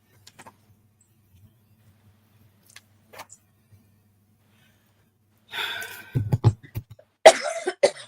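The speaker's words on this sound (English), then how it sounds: "Everybody's got a cough today." Near silence, then a burst of loud, harsh coughing with several rapid hacks and throat sounds, close up.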